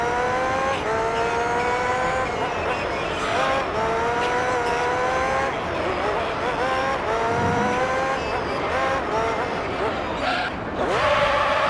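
Race cars in Gran Turismo 3 scream through gear changes with a loud, continuous engine whine, dipping under braking as tires squeal near the end; the roar stays close and dominant throughout.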